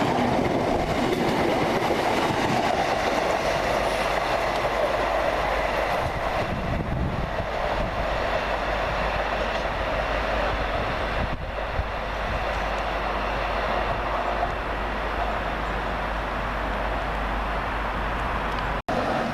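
A Class 318 electric multiple unit, number 318263, passes close by with a steady, loud rumble and rolling wheel noise that holds for the full stretch before cutting off abruptly.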